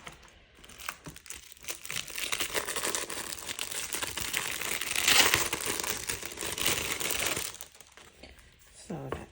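Paper A7 cash envelopes crinkle and rustle steadily as they are handled and fitted into a budget wallet, close and fairly quiet, with a voice talking over parts of it.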